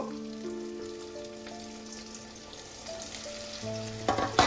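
Prawns fry in a pan with a soft, steady sizzle close by and a few louder crackles near the end, beneath sustained tonal background sounds.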